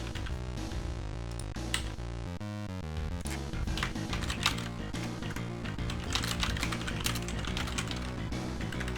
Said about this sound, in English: You don't see me typing.